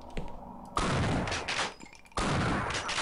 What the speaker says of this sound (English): Two shotgun blasts to the face.